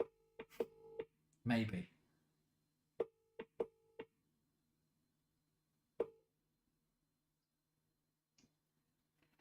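Repeated short electronic tones, phone ringing out on an outgoing call, sound in a sparse rhythm of brief beeps at moderate level, with a burst of talk near the start and a few quiet clicks later.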